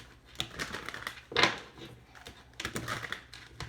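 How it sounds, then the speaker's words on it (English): Tarot cards are shuffled by hand in several short, crisp bursts of rustling and snapping, close up, with brief gaps and no talking. "I have to do the shuffling for"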